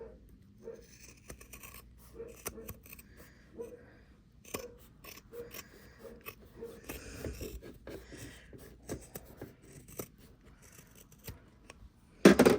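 Scissors snipping and trimming the fabric of a flip flop bag held close by, soft irregular cuts with light rubbing of cloth, faint and intermittent throughout, ending in a brief louder clatter.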